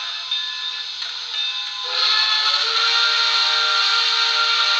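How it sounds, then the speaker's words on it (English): An HO scale model steam locomotive's sound decoder blows a long steady whistle that swells louder midway, with an added echo effect, heard alone and close on a steel mill model railroad layout. "It even has the echo on the whistle."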